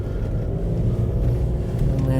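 Low, steady engine rumble from a cheap salvage car bought at auction, driven slowly with a power steering warning light on and heavy steering, the drone continuous and close throughout.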